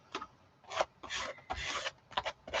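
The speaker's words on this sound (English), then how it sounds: "I'm just gonna scrape like this" Cerulean blue paint scraped across an art journal page, close raspy strokes in several short bursts with brief pauses between them.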